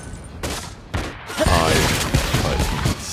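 Granger's crescendo bullets skill in the Mobile Legends game fires a dense burst of gunshots amid game effects and music, loud and layered, with a short break before the volley builds up.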